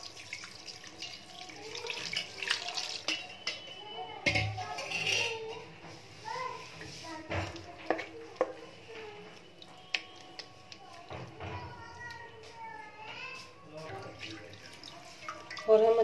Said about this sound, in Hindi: अब हम छेने को अच्छी तरीके से ठंडे पानी से वॉश कर लेंगे।